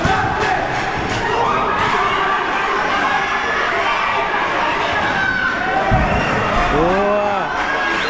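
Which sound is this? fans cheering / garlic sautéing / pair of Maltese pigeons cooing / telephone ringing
fans cheering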